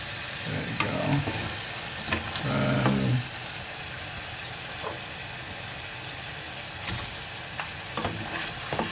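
Brazilian rice balls deep fry in oil, a quiet steady sizzle broken by a few bursts of louder bubbling and sharp crackles, heard close with no talking.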